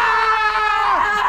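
Two people screaming together at once in a staged reenactment, a sustained high-pitched joint scream that holds steady and then drops in pitch at the end, loud and close.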